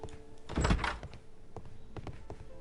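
A door opening in the video game Sherlock Holmes: Crimes and Punishments, a single solid thunk with a short creaking scrape, followed by faint quiet clicks and shuffling in a hushed room.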